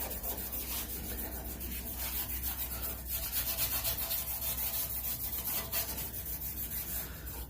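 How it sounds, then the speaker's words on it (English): A small scuffing pad is rubbed briskly over Honda Civic EK9 car parts, producing continuous close abrasive scratching in quick rhythmic strokes, with no talk. "I go into every little crevice with this little scuffing pad right here"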